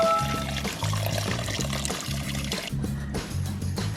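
Water pours steadily into a pot over garlic for several seconds, a continuous splashing fill that rises in pitch slightly, with faint kitchen clatter around it.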